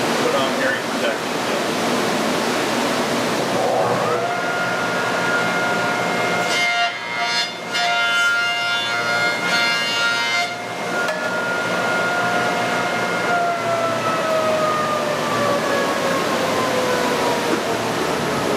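A woodworking jointer runs with a loud, steady whir and broadband roar. Its motor hum rises after switch-on and holds as boards are passed through. A brief dip in the noise occurs midway.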